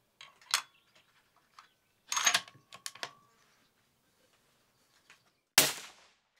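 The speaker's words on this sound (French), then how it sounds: "Cette carabine est chambrée en 308, elle est munie d'un réducteur de son, et je vais tirer les Sako Powerhead Blade" A single sharp report near the end comes from a suppressed Sako 90 Peak rifle in .308 firing Sako Powerhead Blade ammunition. A few faint handling clicks and rustles are heard before it in otherwise quiet surroundings.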